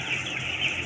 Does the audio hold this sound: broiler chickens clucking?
yes